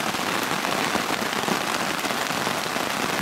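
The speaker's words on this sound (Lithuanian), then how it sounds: "Atsibadau nuo baisaus lietaus į mano tentą" Heavy rain pounds steadily on a tent tarp at night, a dense, loud, unbroken patter heard alone from inside.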